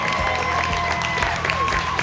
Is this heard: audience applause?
yes